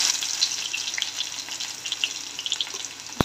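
Garlic and cumin seeds fry in hot oil in a heated kadhai, giving a steady close crackle with small pops, alone and without talk.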